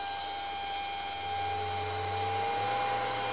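FASS 240 diesel fuel lift pump running on a test bench, a steady faint electric whine with fixed tones and a low hum that rises partway through, continuous with no talk.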